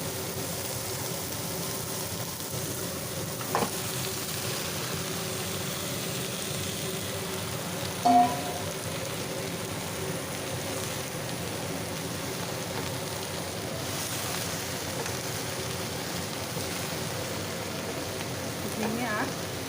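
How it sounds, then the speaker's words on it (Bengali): Eggplant sizzles and fries in a pan while being stirred, a steady frying hiss with occasional scraping and clinks throughout. "প্রথমে দেবো বেগুনটা দিয়ে একটু নাড়াচাড়া করে তারপর ঝিঙে আর আলু দিয়ে দেবো"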